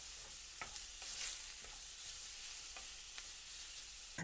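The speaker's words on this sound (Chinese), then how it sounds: "接下来下入切好的姜蒜、小米辣，再次开小火煸炒，充分的把姜蒜炒出香味" Tomatoes, ginger, garlic and chili peppers stir-fried over low heat in a wok, a steady soft sizzle broken by several light scraping stirs of the spatula, close and moderately quiet with no talking.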